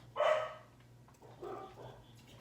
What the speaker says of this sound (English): My dogs are barking, I'm sorry if you can hear them.